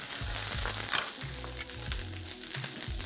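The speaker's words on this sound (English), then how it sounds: "add the oil and then now stir fry your onion and the curry powder" Onion and curry powder stir-fry in a hot wok, giving a close, continuous sizzle with scraping stirs and low clunks from the pan.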